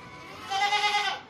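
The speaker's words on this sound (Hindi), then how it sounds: "शौक वाली बकरी है, लंबे हाथ पैरों की माशाल्लाह" A single goat, a long-limbed show breed, gives one close, loud, wavering bleat lasting under a second, with no talking.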